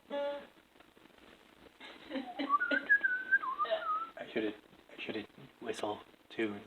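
A person whistles a short wavering melody, close and fairly soft, with talking before and after it.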